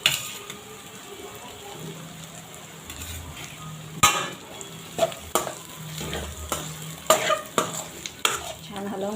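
Potato chutney cooking in a pan, with fennel and carom seeds, makes a low sizzle under repeated sharp scrapes and knocks from a spoon stirring against the pan, growing more frequent in the second half with no speech.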